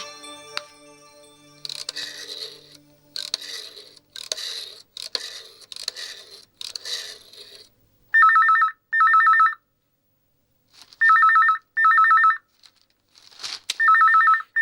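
A telephone bell rings indoors in a house, in two pairs of short, loud, bright bursts separated by brief pauses, preceded by soft rustling and clattering household noise.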